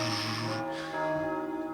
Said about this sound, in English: That's the church bell. That means it's time to eat.